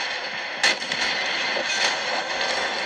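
Warship guns fire in the World of Warships naval battle game, a loud booming salvo followed by rumbling blasts and shell impacts over a steady background roar.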